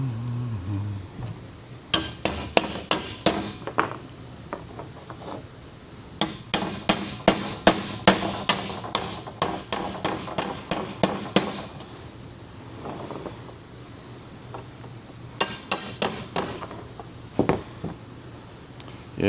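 Bolts are hammered into a wooden garden gate in bursts of sharp, close metallic strikes, quick runs of blows separated by short pauses.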